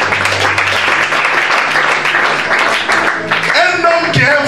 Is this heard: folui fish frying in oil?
no